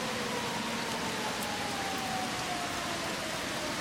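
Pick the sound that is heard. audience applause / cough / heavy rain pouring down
heavy rain pouring down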